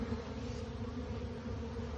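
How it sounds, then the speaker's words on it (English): Dense, steady buzzing of a honey bee swarm clustered on a metal T-post outdoors, a continuous close drone of many wings with no talk. "we're back here with the bees again on the swarm"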